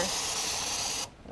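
Steady hiss of steam rising inside a humid reptile enclosure, close and fairly quiet, running for about a second before cutting off abruptly.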